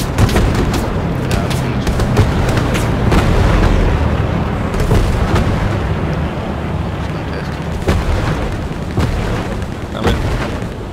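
Grenade and battle explosions in a WWII video game, a dense roar of booms and gunfire cracks, steady and loud across the whole stretch with no single isolated blast.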